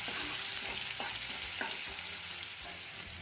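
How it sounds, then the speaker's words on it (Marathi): Finely chopped onion frying in a pan for dhaba-style dal tadka makes a steady, close hiss and sizzle, with a few soft scraping stirs and no voices. "बारीक चिरलेला कांदा कांदा देखील छान परतून घ्यायचा आहे"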